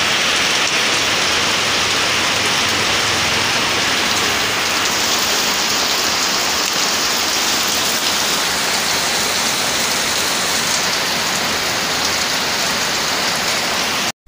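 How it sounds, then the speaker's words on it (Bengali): Heavy rain pours down outdoors during a monsoon downpour, a dense, loud, unbroken hiss of drops drumming on surfaces that continues evenly for the whole stretch with no talking. "কি বৃষ্টি, মাই গড"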